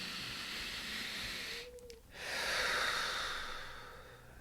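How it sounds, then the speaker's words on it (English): A single slow, deep breath drawn in and then let out, soft and close, with no talking over it. "invite us to take a deep breath"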